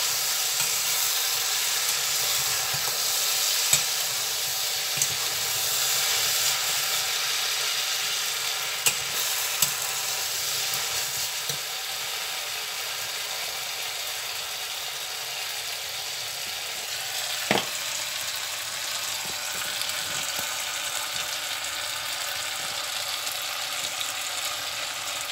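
Okra and onion are stir-fried with spices in a pan, giving a steady close sizzle with occasional spoon scrapes and clicks across a long unbroken stretch, with no talking.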